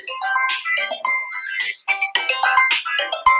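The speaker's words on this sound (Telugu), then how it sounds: "సీత ఫోన్ వస్తాను." A mobile phone plays a bright melodic ringtone, a clear sequence of quick electronic notes repeating in a loud, close phrase with no talking over it.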